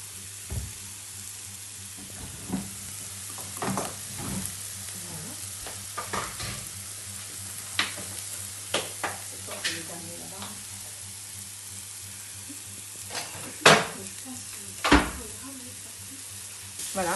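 Crushed almonds fry in a little oil in a pan, a low sizzle broken by scattered crackles and pops and occasional stirring knocks.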